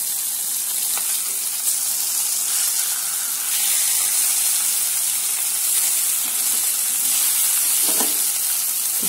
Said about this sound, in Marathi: इथे बघा अंडे व्यवस्थित शिजले गेले बघा